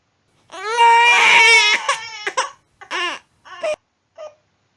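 A baby cries loudly up close, a long wail followed by several shorter sobbing bursts.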